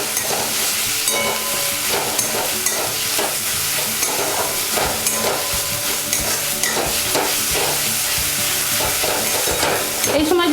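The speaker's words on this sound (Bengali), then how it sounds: "আদা বাটাটা দিলাম, রসুন বাটাটা দিলাম, এগুলো একটু মিশিয়ে নেব" Ginger and garlic paste frying in a pan, with a loud continuous sizzle and hiss and a rapid run of spatula strokes scraping through it.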